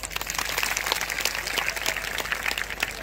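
A crowd at an outdoor Buddhist gathering gives vigorous, continuous applause, dense overlapping hand claps with a low steady hum underneath, loud and close for the whole stretch.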